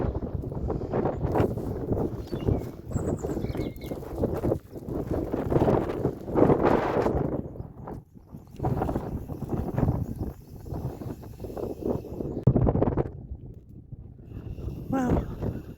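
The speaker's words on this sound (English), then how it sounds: "Sure is windy up here today. It's whooping along." Strong wind gusting across an exposed hilltop near an old hill fort, buffeting the microphone in loud, continuous roaring bursts that rise and fall throughout, with a few faint background sounds mixed in.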